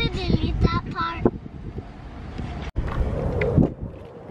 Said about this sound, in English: It's kind of windy. Whoa, it's windy. And I'm trying to block the microphone.